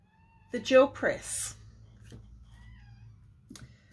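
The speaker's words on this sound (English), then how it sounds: "Murphy's meowing at the bedroom door" A cat meows at a bedroom door in a quiet home, two or three short rising cries up close, followed by a few faint softer calls against a low steady hum.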